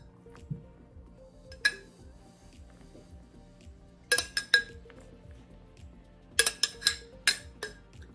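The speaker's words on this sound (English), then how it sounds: "I'm gonna pack these jars full" Glass canning jars clink and knock together as they are packed with beets for pickling, with several sharp clusters of bright clinks separated by quieter handling sounds and a low background hum.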